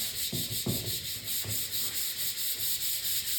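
Sanding a Harley Davidson fender with 220 grit sandpaper, a steady close scraping rub with a few stronger strokes standing out, no talking.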